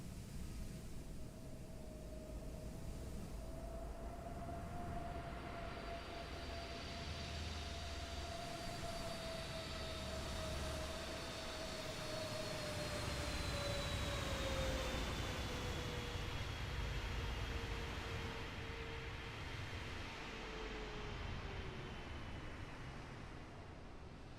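An airliner flies past in Microsoft Flight Simulator with a steady engine roar and a gliding whine that slowly drops in pitch as the aircraft passes. The sound is fairly faint and stands alone, with no talk.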